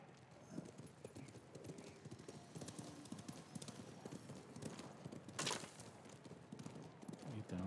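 Horse hooves clip-clop steadily at a trot in the video game Ghost of Tsushima, with a brief whinny, all set against game ambience and a faint bit of talk.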